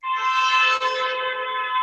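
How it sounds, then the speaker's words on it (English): Car horns honk outside during a morning yoga practice, a steady, loud horn blast held for almost two seconds with a brief dip midway, heard alone without talk. "As the cars are honking in the background."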